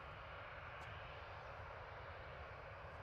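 Ryanair Boeing 737-800 departing Manchester Airport for Belfast, a faint, steady low jet engine rumble heard from a distance, alone with no talk.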